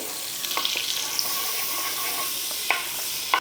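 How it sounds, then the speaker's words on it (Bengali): White oil and a spoonful of butter heat in a frying pan, giving a steady close sizzle with a few small pops and clicks and no voices. "একটা ফ্রাইং প্যান বসিয়ে দিলাম দিয়ে দিচ্ছি কিছুটা সাদা তেল আর তেলের সঙ্গে দিয়ে দিচ্ছি এক চামচ বাটার"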